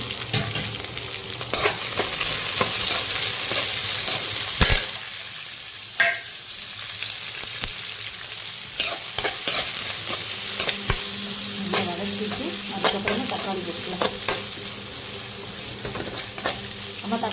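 Onions, green chillies and curry leaves sizzle steadily in hot oil for chicken biryani, with a spoon scraping and stirring the pan at close range throughout.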